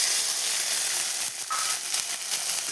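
Spices hit hot oil in a pan for a home-style egg curry, making a dense, continuous sizzle with a bright crackling hiss throughout.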